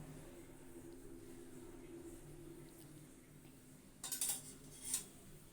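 A lid settles onto a pot of biryani with a couple of sharp metallic clinks near the end, after a stretch of quiet kitchen hum.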